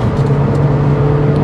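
Ford Focus RS car driving on a road, a steady engine drone and tyre rumble heard from inside the cabin, loud and close, with no talking.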